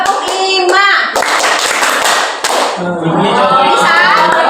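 Hand clapping in a counting clap exercise for an Islamic religious education lesson, sharp claps in short groups mixed with a voice and talk throughout.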